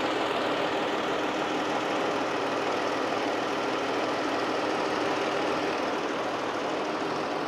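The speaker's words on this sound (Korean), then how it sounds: "우선 엔진 소리 먼저 한번 들려드릴게요." A warmed-up Chrysler 300C with a 3.6-litre gasoline engine and 98,000 km idles with a smooth, quiet, steady hum recorded at the engine bay, with no talk over it.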